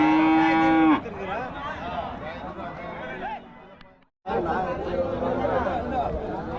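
At the Salem Muthunayakkanpatti village cattle market, a cow gives one loud, drawn-out moo up close. Steady crowd chatter and people talking nearby fill the rest of the scene.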